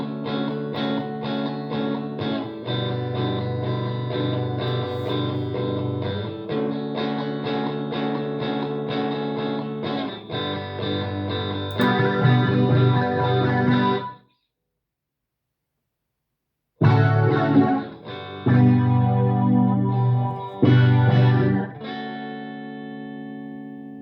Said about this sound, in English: put a phase flipper amp on it, which sounds like this